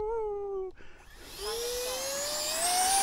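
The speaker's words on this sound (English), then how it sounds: "let's go flying with the mighty 50 millimeter Habu" A Habu 50mm electric ducted fan RC jet spooling up for takeoff: a whine that cuts out, then a rising, high-pitched rushing whir that builds steadily louder and nearer, with no talking.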